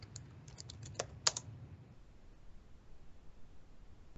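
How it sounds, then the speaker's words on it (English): Quick bursts of typing on a computer keyboard as a school name is entered, a short cluster of light clicks in the first half, then faint room noise. "you simply start typing your school"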